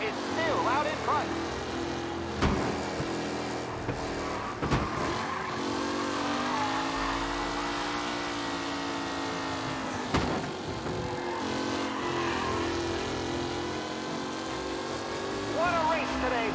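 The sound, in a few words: race cars racing in the video game Mafia Definitive Edition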